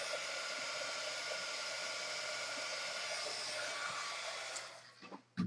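Handheld heat tool blowing steadily to dry distress ink on paper, a continuous close whooshing hiss that cuts off near the end with a brief handling clatter.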